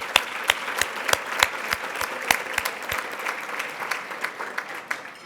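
Audience applause at a state PTA convention banquet, with sharp individual claps standing out near the start before the clapping thins and fades into scattered claps.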